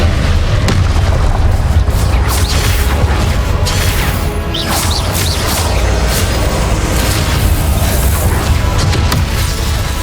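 Dense, continuous booming blasts from Confringo blasting curses in the game Hogwarts Legacy, loud and layered with crashes and bursts for the whole stretch, no talking.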